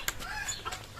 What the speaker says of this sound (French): Voilà nos chouchoutes, nos petites Brahmas qui sont là, tranquillou, au frais.